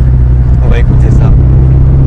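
A car accelerating, its steady engine and exhaust rumble loud and constant throughout, with a voice talking faintly over it.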